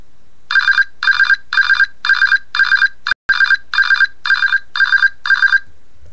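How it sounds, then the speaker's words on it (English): Phone locate alert tone ringing from a misplaced phone indoors: eleven short, loud, evenly spaced bright electronic bursts in a steady rhythm, with no talking. "we'll hit locate phone and it'll make an alert"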